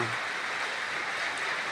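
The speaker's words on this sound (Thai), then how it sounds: "ฝนตกทั้งวันทั้งคืนเลยค่ะ แต่ว่าไม่แรง ฝนไม่แรงไม่หนัก" Steady, soft hiss of light rain falling, even and continuous without any breaks.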